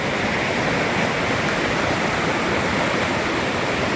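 The Neeru river flows with a loud, steady broadband rush of water, close and continuous like a strong stream or small waterfall, with no voices over it.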